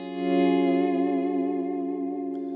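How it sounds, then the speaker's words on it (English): Electric guitar chord swelled in with a volume pedal for R&B playing, with no pick attack, carrying a sustained chorus-and-distortion-tinged tone that rises smoothly and holds steady, alone without talk. "I'm going to volume swell into it"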